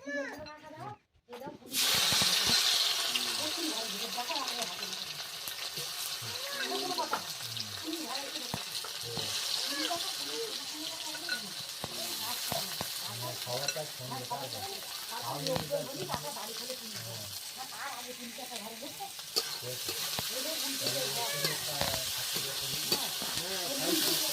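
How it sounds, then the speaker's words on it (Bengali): Garlic paste frying in hot oil gives a steady, loud sizzle and hiss after an initial burst, continuing throughout with bits of stirring and a voice talking over it. "রসুন বাটা এটা তেলের মধ্যে দিয়ে দিচ্ছি"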